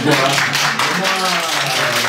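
Audience applause at a fashion festival, steady dense clapping from a crowd filling the whole moment, loud and close with no pause.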